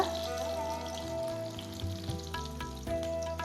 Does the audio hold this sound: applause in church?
no